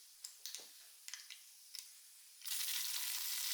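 Mustard seeds, dried chillies and curry leaves frying in hot oil for tempering: scattered faint pops and ticks at first, then a sudden loud, steady sizzle that carries to the end.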